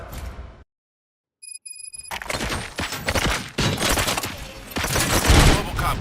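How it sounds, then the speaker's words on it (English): Gunfire in RoboCop: Rogue City erupts after a short silence and a chime, loud and dense with overlapping shots and booms in rapid bursts, with some game sound around it. "Gunshots? What's going on?"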